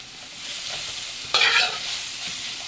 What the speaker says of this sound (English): when you're doing the onions, you want a nice golden brown color. So you want to just caramelize them